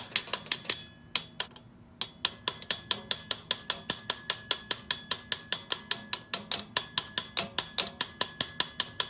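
Steady metallic hammer blows ring out in a fast, regular rhythm, dozens of sharp strikes close by with a brief pause near the start, driving an intermediate shaft out of an EZGO golf cart rear gear housing.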